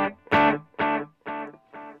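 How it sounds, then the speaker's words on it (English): A guitar chord rings through a delay effect with reverb and overdrive off, its repeats decaying in four evenly spaced echoes, each fainter than the last, with no talk. "Now for the delay, I actually have quite a bit if I turn off the reverb and turn off the overdrive."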